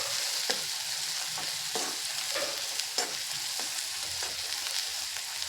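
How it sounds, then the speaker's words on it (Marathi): Dried fish tossed with red chili powder in a hot pan, a steady close sizzle broken by regular scraping stirs of a spatula. "हे चांगलं परतून घेऊया।"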